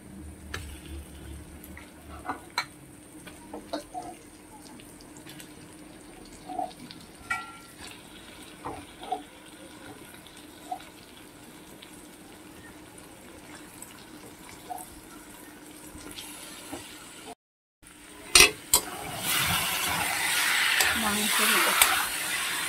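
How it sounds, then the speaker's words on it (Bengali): Chicken with onion, garlic, ginger, chili and turmeric being stirred and fried in a pan. A low, quiet sizzle runs under scattered clinks and scrapes, then swells into a loud, bright hiss after a brief pause near the end. "চিকেনগুলোকে ভালো করে কষে নেব"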